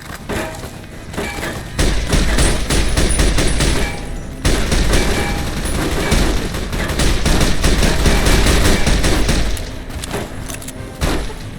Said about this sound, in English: my minigun's about to break